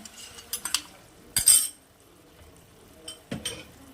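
A bowl rinsed with water beside a Bangladeshi fish curry, with a few sharp metallic clinks and scrapes of utensil on bowl in short bursts, close and clear with quiet gaps between, no talking.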